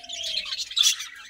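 Budgerigars in a breeding colony give a dense, high chatter of chirps and warbles, with one sharper squawk near the end, fairly close and continuous, with no talk.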